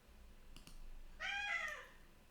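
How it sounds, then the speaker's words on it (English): A cat gives a single clear, drawn-out meow at close range, preceded by a couple of faint clicks in a quiet indoor room. "It's my cat who likes to talk."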